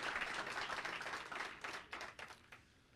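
A public service awards gathering fills with dense applause from an audience, a steady wash of clapping that thins into a few last claps and fades out.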